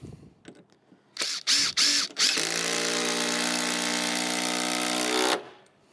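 Power drill driving screws into deck boards: a few short bursts, then one long steady whine lasting about three seconds, loud and close with no talk.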